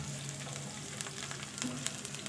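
Garlic fries in a pan with a steady, close crackling sizzle and a few sharper pops, cooking for a spicy pork adobong tuyot, with no voices over it.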